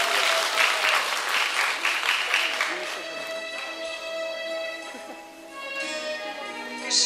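Audience applause fills a concert hall at a Defender of the Fatherland Day celebration, steady dense clapping throughout with music tones sustained beneath and a brief dip near the end before rising again.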